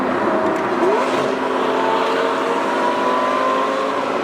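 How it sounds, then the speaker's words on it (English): Nearby cars rev their engines around a straight-piped Lamborghini Gallardo Superleggera, a loud, continuous engine roar with rising pitch sweeps close by. "people are just revving at us."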